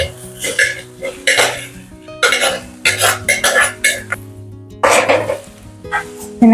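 Clam meat fries with tomatoes in a pan for a roast, loud bursts of sizzling alternating with clattering of a spoon against the pan in irregular stirring strokes, close up, with a brief cough.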